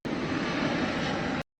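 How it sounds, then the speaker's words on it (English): Private jet engine roaring steadily, a dense broadband rush at constant loudness that starts and stops abruptly in a short burst. "Private jet."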